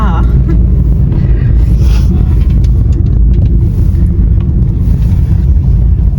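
Steady, loud low-frequency road rumble and wind noise from inside a moving car, continuous throughout without breaks.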